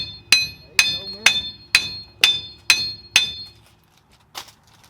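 Metal hammer blows tap on the brake housing of a car's rear end axle, six sharp ringing strikes at a steady pace, then a pause and one lighter tap, close by, with no talking.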